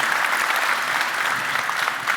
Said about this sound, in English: Let's give John another warm round of applause.